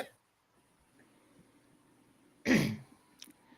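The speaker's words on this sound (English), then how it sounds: "Clear my throat." A single sharp throat clearing cuts through a quiet room, short and close, followed by a faint small sound after a brief pause.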